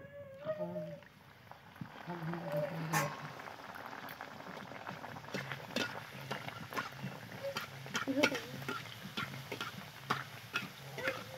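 Pea-stuffed kochuri puris frying in a pan of hot oil give a steady bubbling sizzle with scattered crackles and pops, close by, while a voice talks intermittently over the cooking.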